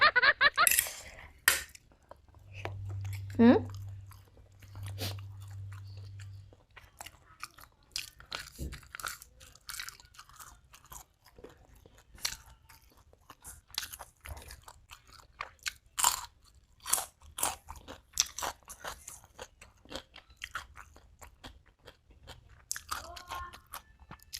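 Crunchy bites and chewing of a spicy Thai fried rice salad with fermented pork (yam naem), heard up close as a steady run of sharp crisp crunches with no talking.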